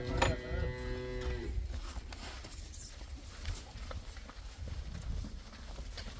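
A cow on a dairy farm gives one loud, drawn-out moo at the start, followed by low farmyard rumble and faint movement noises.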